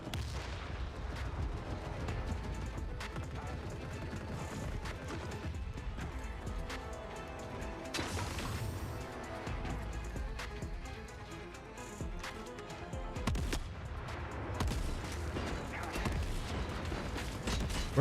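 Gunfire rattles in the video game The Forever Winter, with dense, continuous bursts and heavy booming shots layered into a constant, loud battle din.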